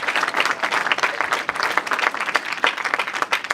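A town hall audience held in a house of worship applauds the moderator, steady close clapping with scattered sharp individual claps throughout, no speech over it.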